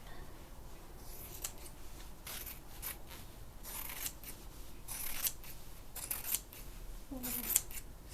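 Fabric scissors trim a piece of red bedsheet fabric, making a string of crisp, close snips and slicing crunches in an irregular rhythm, with light rustling of cloth between the cuts.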